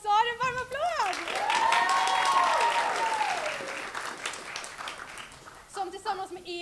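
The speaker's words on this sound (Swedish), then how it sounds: "En varm applåd!" Warm applause from a school concert audience fills the room, a steady wash of clapping with a few cheers rising over it before voices return.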